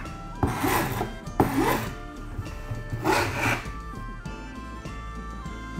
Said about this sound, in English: Use a half round file to remove the excess grip by running it at 45 degrees along the edge